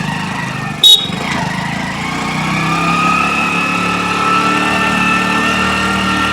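A car engine strains steadily in first gear as it climbs a very steep road up to Gopalgad fort near Anjanvel. The drone is loud and close and continuous, and a short sharp knock comes near the start.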